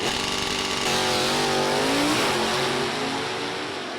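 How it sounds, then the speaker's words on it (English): A 1971 big block Chevelle races down a drag strip, its engine roaring hard and rising in pitch through the gears, then fading slowly as it pulls away. "Driving a 71 big block Chevelle."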